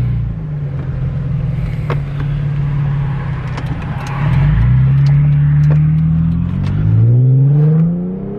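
A car engine idles, then revs up twice in rising whines, loud and close with a steady rumble underneath.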